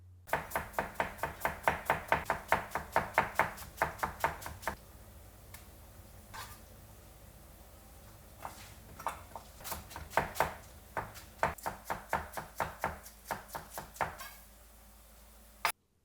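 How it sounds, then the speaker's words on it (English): Knife chopping a green onion on a cutting board, rapid rhythmic taps in quick bursts separated by short pauses, then a closing run of sharp evenly spaced cuts close to the listener. "first we're going to chop up a green onion"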